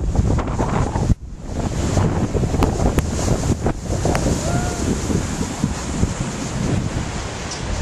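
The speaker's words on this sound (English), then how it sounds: "the wind is blowing" Strong wind buffets the microphone beside a rain-swollen, flooded creek, a loud continuous roar with gusty bursts and rushing water beneath, a brief dropout near the start.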